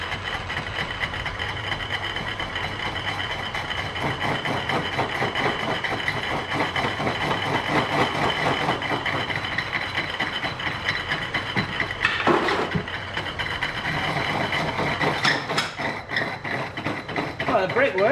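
A metal lathe running for the first time after a motor swap, a steady mechanical hum and whir with a rhythmic rattle throughout, brief clunks near the end, no talk.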